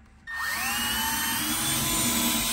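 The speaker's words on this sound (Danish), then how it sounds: "Hvis jeg bare ignorerer alle reglerne og bare borer ud i det blå sådan her" A handheld power drill bores into a piece of wood, its motor whining up sharply to full speed and then running loud and steady close by, with no talking over it.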